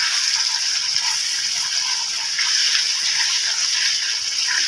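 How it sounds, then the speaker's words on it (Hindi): Milk poured into a mutton magaz korma as it cooks, a steady close hiss and splash running without a break and without talk. "इसमें दूध भी जाएगा।"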